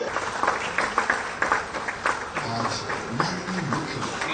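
Applause from a crowd at a government inauguration ceremony, scattered, uneven clapping with bursts of taps, fairly faint, with a voice speaking underneath partway through.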